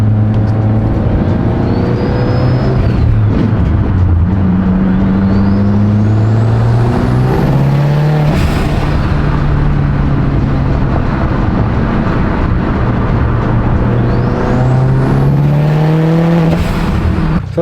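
A repaired, previously wrecked car that is running lean revs hard on a test drive, the engine climbing and dropping through several loud gear pulls with rising and falling whines and no talking.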